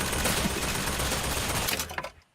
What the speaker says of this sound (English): Oh, I didn't realise there was a machine gun turrets.